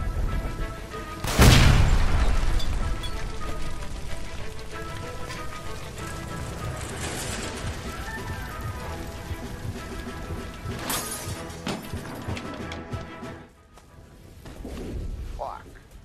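A gas line blowing up in L.A. Noire, with a loud blast and crashing debris early on, followed by a rumbling, rain-like hiss of falling fragments and a second burst of crashing later, under shouted voices.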